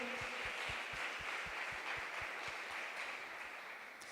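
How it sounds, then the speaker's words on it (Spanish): A church congregation gives sustained applause, a steady rush of clapping heard at a distance, with a regular low thumping beat underneath, fairly faint and tapering off at the end. "Ese aplauso es para ti por lo que hiciste."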